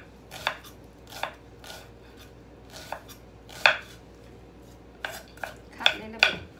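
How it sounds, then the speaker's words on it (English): Red onion is chopped on a cutting board, about ten sharp, irregular knife thunks spaced out with short pauses, close up and with no talking over them. "Cut a little bit, but make a, this is red onion."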